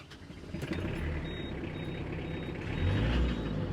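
The diesel engine of an Iseki Geas 37 mini tractor cranks and fires into a steady low idle, rumbling continuously with a slight swell in loudness near the end.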